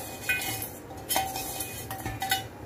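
A metal spoon clinks against dishes while Ethiopian spices for mekelesha are measured out, a handful of light, close clinks and scrapes spaced irregularly over a quiet background.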